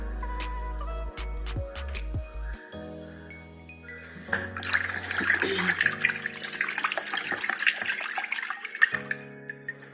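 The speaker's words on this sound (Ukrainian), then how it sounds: "То самий теплообмінник треба промити." Water rushes and splashes steadily through a rusty heat exchanger being flushed, with occasional clinks and a low hum at the start before the flow swells louder.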